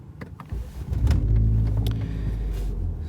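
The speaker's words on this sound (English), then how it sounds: "So as you can see, the car cranks right up." A Ford Focus ST fitted with a lightweight battery cranks briefly, then its engine catches and settles into a steady, close idle rumble, heard alone.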